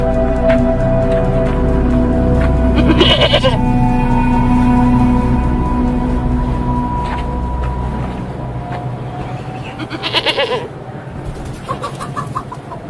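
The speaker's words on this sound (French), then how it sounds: "nous vous offrons cette chèvre en signe de respect et d'entente cordiale" A goat bleats in wavering, drawn-out cries over a loud, steady low background rumble, with a couple of sharper bursts partway through and later on.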